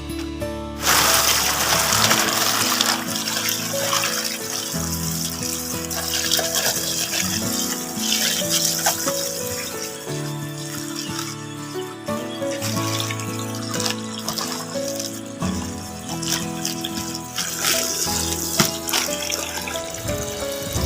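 Tap water runs steadily into a container being filled for growing lettuce, a continuous close pour lasting about twenty seconds with a ringing tonal resonance over the splash.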